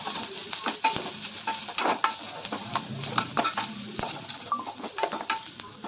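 Sweet corn fried rice stir-fried over a high flame in a pot: busy, close sizzling broken by frequent scrapes and clinks of a spatula stirring against the metal, with no voices.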